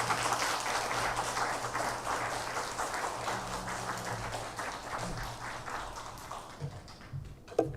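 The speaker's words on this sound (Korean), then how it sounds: "우리 다 같이 박수로 이렇게 환영하겠습니다." A church congregation applauds to welcome a preacher at a Sunday service at Hanyang University's church. Continuous crowd clapping holds steady for several seconds, then thins and dies away near the end.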